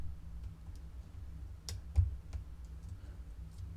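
Faint, tiny clicks of a lock pin shifting during lock picking on an Abus padlock, a few sparse ticks over a low hum, with one slightly sharper click near the middle.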